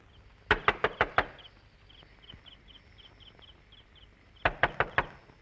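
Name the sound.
knocking on a door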